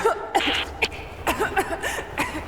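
Lara Croft coughing and gasping in Rise of the Tomb Raider's Baba Yaga episode, several short rough bursts close up, with a throaty chuckle-like catch between them and no speech.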